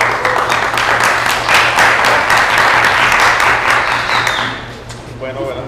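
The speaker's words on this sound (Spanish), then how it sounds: "un aplauso para él" An audience applauds a speaker after a talk on supernova explosions and the expansion of the universe. Dense, steady clapping fills the hall for about five seconds and then fades, with a voice starting up at the end.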